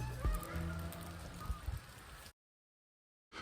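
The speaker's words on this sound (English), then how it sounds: "You can hear the geese." Geese honk repeatedly over a lakeside in light snow, with moving water audible beneath the calls before the sound drops out entirely and briefly returns.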